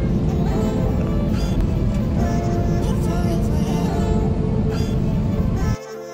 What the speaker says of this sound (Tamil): ஓகே, இப்போ ஃப்ளைட் பார்த்தோம்னா லேண்ட் ஆக போகுது.